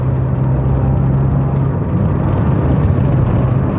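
A Rover 400 Tourer on the move, its engine a steady loud low hum with a droning tone from inside the cabin, rumbling evenly and continuously with no talk.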